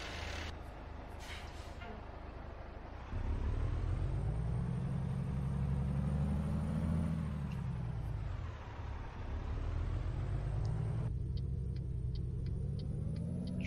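A truck engine in American Truck Simulator rumbles low and steady, rising and falling in pitch as it accelerates and eases off, with a faint hiss like air brakes near the start and no talking.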